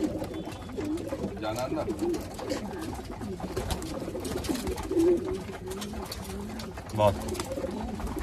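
Pigeons coo on a rooftop coop, low throaty calls recurring several times near by, while someone talks over them throughout.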